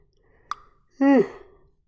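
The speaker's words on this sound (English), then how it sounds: "I'm gonna yawn" A short click, then a person's drawn-out yawn with a falling, breathy vocal tone, close by and fading into quiet.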